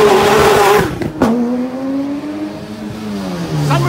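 A race car blasts past at the Knysna Hillclimb, a loud revving engine note that drops in pitch as it passes, then tires squeal as it pulls away up the hill.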